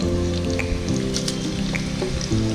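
Garlic ginger paste sizzles and fries steadily in a clay handi for a chicken pumpkin curry, with a continuous close crackle and bubbling and low tonal hum beneath.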